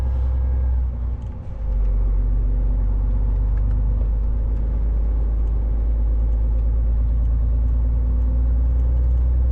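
A truck driving slowly uphill on a snowy road in Germany, its engine a loud steady low rumble from inside the cab, with a brief dip near the start, no talking.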